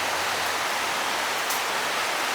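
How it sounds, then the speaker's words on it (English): A mountain creek running high after Hurricane Helene, heard as a steady, loud, broad rushing hiss of flowing water, close by and unbroken, with no talk. "this creek was way up. It looks like it's pretty much back to normal now"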